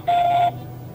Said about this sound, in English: Wait for the beep, scream, then hang up.